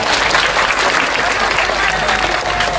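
An audience at a Balinese comedy show entertaining villagers in Tegalcangkring, Jembrana, claps loudly and continuously, a dense, steady wash of applause with no break.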